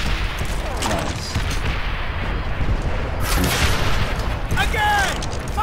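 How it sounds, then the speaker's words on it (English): Panzerschreck rocket launcher firing in the WWII video game Call of Duty: World at War, heavy booming blasts within a loud, continuous battle din with overlapping explosions and gunfire. "Fire the Panzer Shrink! Holy crap, that shot."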